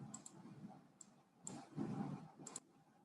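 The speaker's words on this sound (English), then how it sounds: "I'm just typing here." Light clicking of a computer keyboard being typed on, a handful of scattered, faint key taps with brief pauses, no voice.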